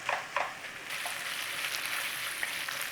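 Bacon fries and renders in a pan with a steady, close crackling sizzle and a few sharper pops near the start, with no talk.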